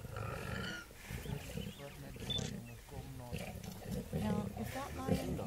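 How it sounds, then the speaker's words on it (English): Lions growl and roar over a freshly killed warthog, close and fluctuating in bursts across several seconds, with people talking faintly underneath. "the real rumble starts. You'll hear the lions."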